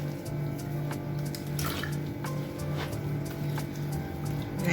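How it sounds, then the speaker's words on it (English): Water poured into homemade beetroot and carrot juice, a continuous close splashing gurgle with bright bubbly bursts, steady throughout, no talk. "I'm gonna add some water to this."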